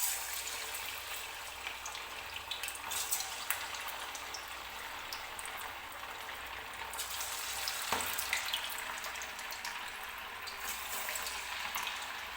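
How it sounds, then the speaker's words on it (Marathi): Chicken 65 pieces frying in hot oil in a kadhai make a steady, close crackling hiss. It keeps going with small pops and sputters and no talking. "एक एक पीस जे आहे ते मी तेलामध्ये सोडून घेणार आहे."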